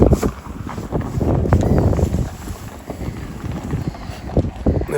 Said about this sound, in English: There's my favourite motor.